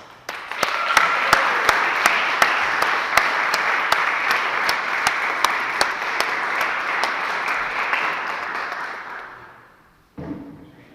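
Audience in the First Congregational Church of Sheffield applauds the band: dense, steady clapping with a few sharper claps standing out, holding for about nine seconds before fading, then a brief soft knock.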